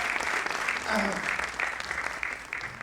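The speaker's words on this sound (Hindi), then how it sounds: "तालियां बजाओ सारे परिवार के लिए" An audience at an honours ceremony clapping for a family, sustained dense applause at steady loudness throughout.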